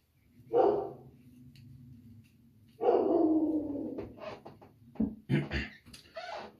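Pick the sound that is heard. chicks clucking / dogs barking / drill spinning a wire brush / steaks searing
dogs barking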